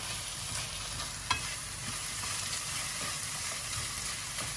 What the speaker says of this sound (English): Stir that around so that it doesn't stick too badly.